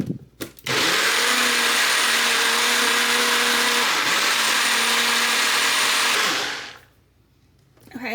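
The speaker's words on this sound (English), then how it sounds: "now I'm going to go ahead and puree the tomatoes" A blender purees canned tomatoes for chicken tortilla soup, a loud steady whirring motor running about six seconds without pause before cutting off, with no talking over it.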